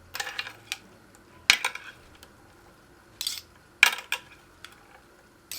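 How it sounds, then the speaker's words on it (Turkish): Utensil slowly stirring chopped zucchini with onion and parsley in a pan, giving a few scattered clinks and scrapes with quiet gaps between them, close and moderately loud, with no talking. "Şimdi soğan ve maydanozunu da doğradıktan sonra şöyle yavaş yavaş karıştıralım."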